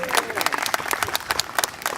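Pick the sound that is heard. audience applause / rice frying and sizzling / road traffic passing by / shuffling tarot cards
audience applause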